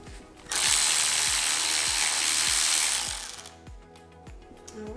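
A hand ratchet loosening connecting rod caps on a Honda B16 engine, clicking in a quick even series at close range beneath a broad hissing noise.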